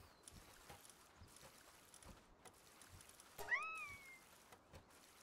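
A cat creature in the video game Palworld gives one faint, rising-and-falling meow amid quiet ambient game sounds and soft clicks.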